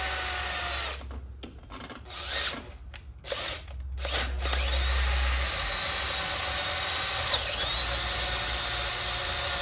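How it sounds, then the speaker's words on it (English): A power drill with a new bit drills out stripped threads in a car engine block, starting in short bursts then running as a steady high whine, close and loud. "we're gonna take our new drill bit, we're gonna drill this out a little bigger"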